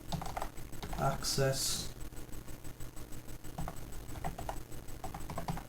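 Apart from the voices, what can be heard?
typing on a computer keyboard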